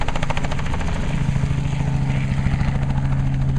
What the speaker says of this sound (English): Hopefully you can see this helicopter coming right at us.